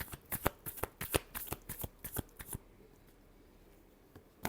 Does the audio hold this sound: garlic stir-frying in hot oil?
no